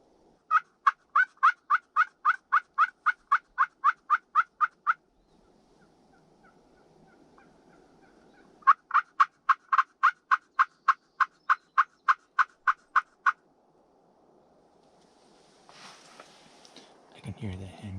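During a Minnesota spring hunt, a wild turkey gobbles in answer to a call. Two long runs of evenly spaced, loud yelping call notes are separated by a quiet gap, and a rougher, noisier burst follows near the end.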